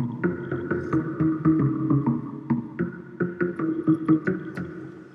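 Synth lead patch recreating a drop, built in the Massive synthesizer: a loud, punchy sequence of rhythmic stabbed notes with sharp attacks, playing alone.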